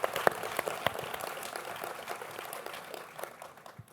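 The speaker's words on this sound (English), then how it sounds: "so let's give him a round of applause." Applause from an audience at a young entrepreneur panel, scattered claps with a few sharp close hand claps at the start, thinning out toward the end.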